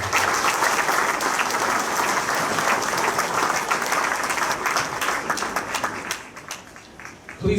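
Sustained audience applause fills a hall during a sports hall of fame induction ceremony, loud and dense throughout before thinning slightly near the end.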